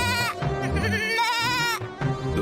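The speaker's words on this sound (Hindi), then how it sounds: "ये बकरी की आवाज कैसी?" A goat bleats in a long, wavering, nasal cry, loud and close, followed by a shorter second bleat after a brief dip.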